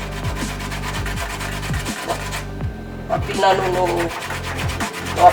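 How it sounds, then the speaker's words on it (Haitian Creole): Fresh ginger is grated by hand against a metal grater in quick, rhythmic rasping strokes, close and steady, with a short pause midway before the scraping resumes. "on commence, n'a juste grager gingembre là"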